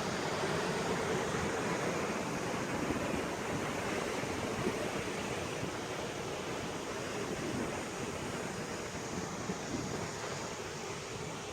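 Steady roar of sea waves and gusting wind on a beach, a dense, continuous wash of surf noise throughout with no voices.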